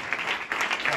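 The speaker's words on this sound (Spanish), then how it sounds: "Denle ofrenda de palmas" Church congregation applauding as an offering of clapping to God, a dense, steady wash of many hands clapping together for a short moment.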